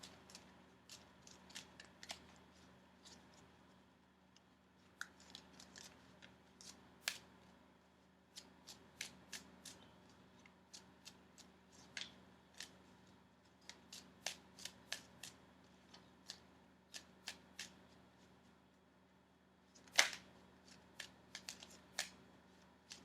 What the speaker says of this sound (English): So I'm going to shuffle for a few more seconds.